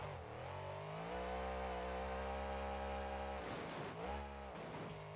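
A monster truck engine in BeamNG.drive screams at a high, steady pitch as it bounces off the rev limiter in first gear, briefly dropping and climbing again near the end.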